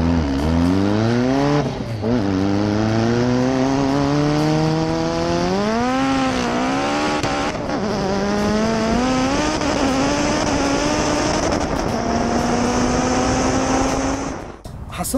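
A car engine revs hard through repeated upshifts, pitch climbing then dropping at each gear change, loud and close for the full stretch during a street race against a yellow Honda S2000, with a voice over the engine.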